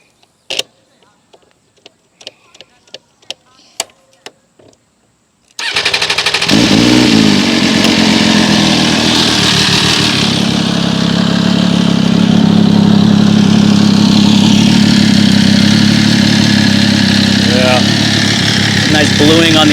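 An MV Agusta F3 motorcycle, started with the clutch: a few light clicks and taps, then the engine catches abruptly and settles into a loud, steady idle with a slight rev, close by.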